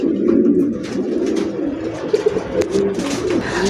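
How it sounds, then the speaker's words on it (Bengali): Original racer pigeons, a large male and female pair, coo close by in a loft on a pigeon farm. The soft, throaty calls come in overlapping rolling phrases throughout, with no speech. "দেখার মতো হাই কোয়ালিটি কবুতর।"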